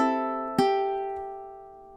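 A ukulele plays the second measure of a song in a beginner arrangement: a ringing strummed chord, a sharp new strum just after half a second, then the notes decaying alone with no talk.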